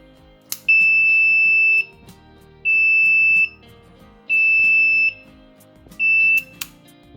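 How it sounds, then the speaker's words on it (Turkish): A loud, piercing buzzer sounds in four long steady bursts separated by short gaps, close by with faint background clatter. "Ama burada ben şu şekilde buzzer kullandım. 24 volt buzzer kullandım."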